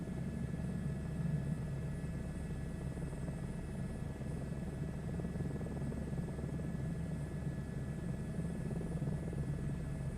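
Steady, fairly quiet engine drone of a Fujifilm Skyship 600 blimp in Microsoft Flight Simulator 2024, a low, even rumble with a faint hum that holds unchanged throughout.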